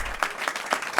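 Applause at a Louisiana state committee hearing on an abortion bill, a few distinct evenly spaced claps, fairly close and brief, with no talk over them.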